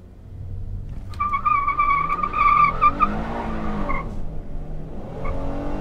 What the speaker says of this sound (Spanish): ahora vamos a arrancar en Sport Mode. Vamos a inflar la camioneta a 2000 revoluciones por minuto y con el Traction Control apagado